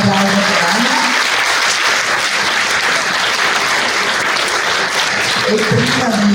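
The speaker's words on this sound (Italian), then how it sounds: "Benissimo, un applauso per Anna." An award ceremony audience applauds a prize winner with steady, loud clapping. A voice speaks briefly at the start and end over it.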